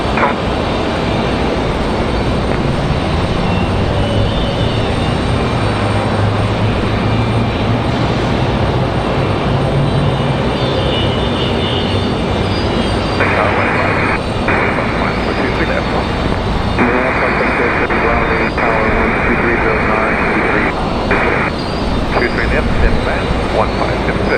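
An aircraft arriving at Raleigh-Durham airport taxis toward the general aviation side, its engine a loud, continuous roar with a steady high whine joining partway through, heard from a distance outdoors.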